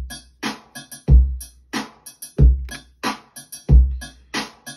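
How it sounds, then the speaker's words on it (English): A programmed drum pattern from a Five12 Vector sequencer with steady hi-hat ticks over booming kick hits that repeat in a looping electronic groove, with no voices. "with just a standard hi-hat pattern."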